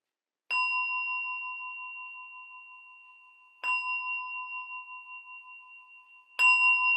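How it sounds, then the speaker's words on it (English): A meditation bell is struck three times to open a sitting, each clear, pure ring sustaining and slowly fading before the next strike, in an otherwise silent room. "In my tradition, I ring the bell 3 times to start and once to end."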